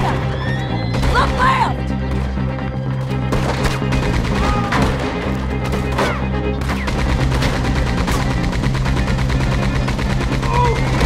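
Gunfire during a train robbery shootout in Red Dead Redemption 2, with steady rapid shots under a constant rumble, horse whinnies and clip-clop, and people shouting throughout.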